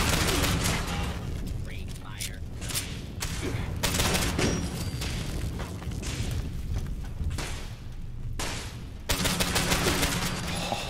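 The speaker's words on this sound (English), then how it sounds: "This auto pistol's great." Rapid auto pistol gunfire in Fallout 76, long loud bursts of close shots in fast succession, broken by brief pauses, with a voice speaking in the game between volleys.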